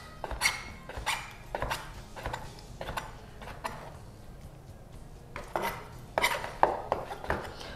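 A sharp kitchen knife slices meat into thin strips on a board in a home kitchen, giving a series of soft, evenly spaced cutting taps that sound fairly close and fairly quiet.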